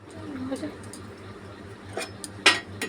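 A metal lid clinks down onto a pot of small diced potatoes boiling on a kitchen stove, a sharp close clatter with a lighter tap before it, over a low hum and a voice talking.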